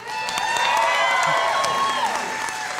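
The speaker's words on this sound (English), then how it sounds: "Don't stop clapping." Concert crowd cheering and applauding after a rock performance, with sustained clapping, whoops and shouts blending into a broad continuous roar, while a tonal music or voice line rides over it.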